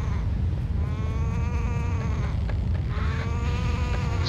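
Bird call in The Legend of Zelda: The Wind Waker video game, a goat-like bleating cry repeated twice over steady ambient background, with no talk.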